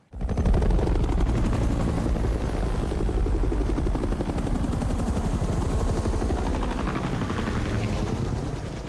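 Loud, steady helicopter rotor thudding with dense low-frequency chopping throughout, a close and continuous roar.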